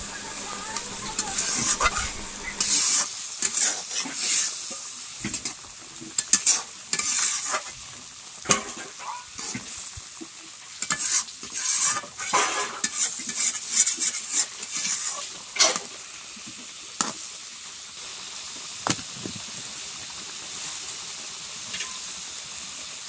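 A pointed gourd curry with sugar simmers and sizzles in a pan, broken by repeated scraping stirs and spoon knocks over more than twenty seconds, with some talk between the stirring.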